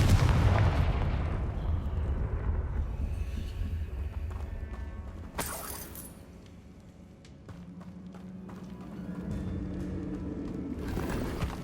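Explosive Confringo spell blasts in the video game Hogwarts Legacy, with a dense rumbling mix of battle effects and one sharp, loud burst midway, followed by a softer settling hum.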